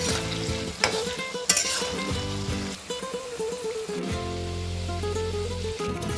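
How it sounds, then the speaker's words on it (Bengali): Diced potatoes fry with turmeric in hot oil over a medium-high gas flame, giving a steady, close sizzle with occasional stirring scrapes and a few sharper spits throughout. "গ্যাসের ফ্লেম মিডিয়াম টু হাই থাকবে আর আলুগুলোকে লালচে করে ভেজে নেব"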